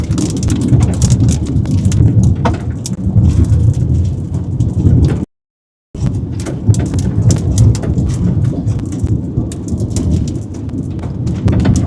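During an Oklahoma storm chase, heavy rain pours and rumbling thunder rolls in a steady, loud wash, with a brief dropout partway through and no talking.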